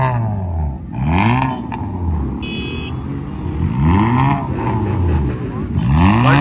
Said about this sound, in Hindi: तो भाई एग्जॉस्ट तो लग रहा था अपने i20 में, एक बार आवाज़ सुना दे कि भाई कैसी आवाज़ आ रही है